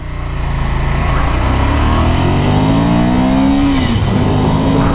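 A 2017 Ducati Monster 797 motorcycle engine drones steadily while being ridden, its tone climbing as it accelerates, with continuous wind and road roar mixed in.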